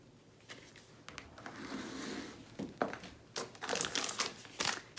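Resealable plastic toolkit pouch handled up close, with soft irregular crinkling and rustling that builds into sharper crackles toward the end.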